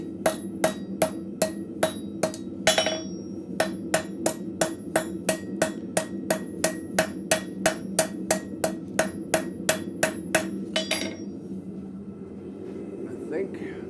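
A blacksmith hammers scrap metal over an anvil to fold it into an arrowhead socket, a steady series of sharp ringing strikes at a brisk even rhythm, fairly close, that stops near the end with forge background hum.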